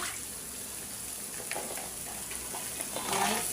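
Yardlong beans and small fish sauté with spices in a pan, giving a steady soft sizzle with faint intermittent stirring scrapes and a slight rise in crackle near the end.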